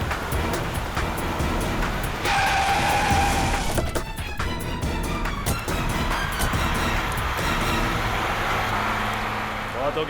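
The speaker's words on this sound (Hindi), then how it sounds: "ये नेहा तो गाड़ी भगाने लगी।" A car tears away with tires skidding, a sustained loud engine roar and a squealing screech, then rushing motion noise in a dramatic chase scene.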